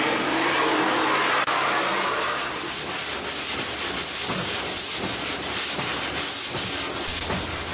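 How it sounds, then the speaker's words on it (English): Continuous harsh scraping of old paint off a hardtop, with repeated rhythmic strokes, close and loud throughout. "I'm scraping the old paint off this hardtop to get ready to sand and repaint."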